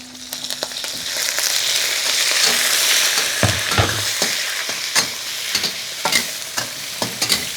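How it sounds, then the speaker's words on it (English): Shrimp hitting a hot wok with garlic and chili, making a loud, close, roaring sizzle cut by repeated sharp spatula scrapes and clanks in an uneven rhythm. "And then add the shrimp."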